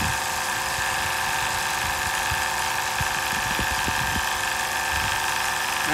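The high pressure pump of a Stella land-based watermaker runs with a steady, loud mechanical whine and hum, with a few low knocks near the middle and no speech.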